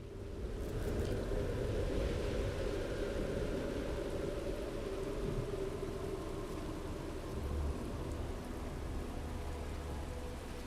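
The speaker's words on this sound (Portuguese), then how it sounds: "tá chovendo" Steady rain pours without pause in Starfield, a dense hiss with a low rumbling undertone, no voices.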